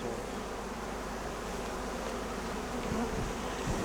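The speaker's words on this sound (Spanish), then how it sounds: "las abejas salen del vaso por otro lado" Honey bees hum steadily around a hive in traditional beekeeping, a dense, even drone of many insects close by with no voices.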